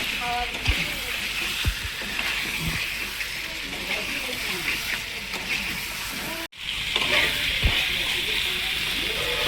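Mutton sautés in hot oil for a curry, giving a steady close sizzle with stirring scrapes, briefly cut off once, while a person talks over it.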